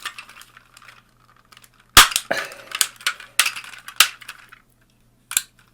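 Plastic legs of a Hello Carbot Power Bumba transforming toy snapping and clicking into place, a sequence of sharp, close, irregular clacks with small rattles in between.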